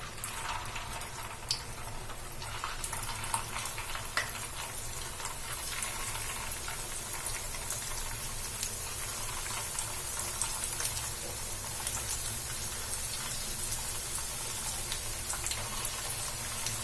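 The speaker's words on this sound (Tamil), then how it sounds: "நம்ம இதை இப்ப ஆயில்ல போட்டு தான் ஃப்ரை பண்ணி எடுக்க போறோம்." Evening snacks deep-frying in hot oil in a pan, a steady, faint sizzle and crackle like light rain that holds even and continuous throughout, with no talk.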